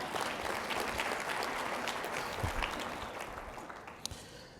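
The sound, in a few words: audience applause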